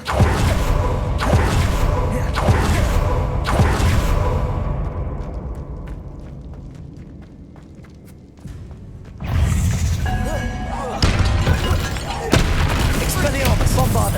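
Explosive combat spells in Hogwarts Legacy land as heavy repeated booms and thuds. They ease into a quieter stretch, then return as a loud burst of blasts amid battle noise.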